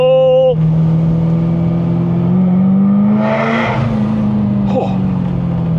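A Ferrari 348 Spider engine revs and pulls away in second gear inside a tunnel, a loud, close, booming drone that climbs in pitch with echoing reverberation, with a brief exclamation from the driver.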